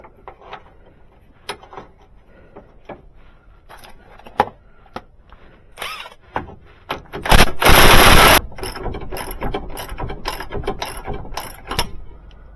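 A ratchet drives bolts back into a ball joint on a Dodge: scattered metallic clicks, then a loud burst of rapid ratcheting, followed by more quick clicking runs close by.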